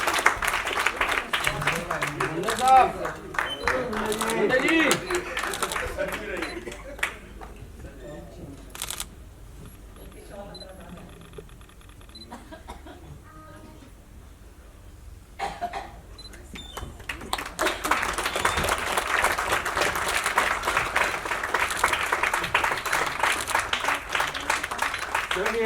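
Loud applause from an audience at an arts foundation-day gathering in Shimla, a dense burst of clapping that fades to a quieter lull midway, then swells into a second full round.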